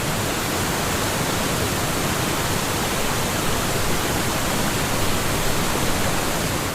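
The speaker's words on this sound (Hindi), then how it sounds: "इसके सामने दिखता है वाटरफॉल कितनी इंटेंसिटी से नीचे गिर रहा है" Iguazu waterfall in Brazil pouring down with great force, a steady, loud, broadband roar of crashing water that holds unchanged throughout, close and alone without voices.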